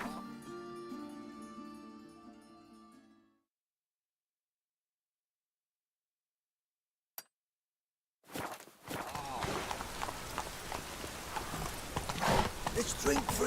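Horse hooves galloping across open ground in The Witcher 3, a dense steady patter that starts abruptly after a stretch of music and silence and continues loudly to the end.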